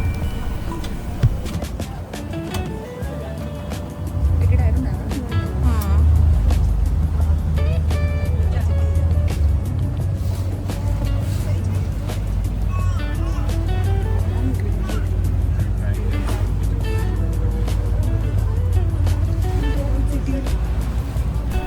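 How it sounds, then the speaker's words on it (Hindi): An abra water taxi crosses Dubai Creek, its motor droning steadily and loudly throughout under a long stretch of Hindi talk, with general waterfront bustle behind. "आबरा राइड एक सिंपल और एक मस्ट ट्राई एक्सपीरियंस है"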